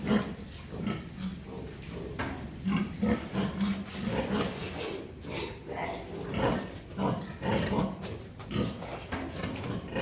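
A sow in difficult farrowing grunts repeatedly while straining, a run of low, rough grunts in an uneven rhythm, close by, over a background of barn noise and scattered human voices.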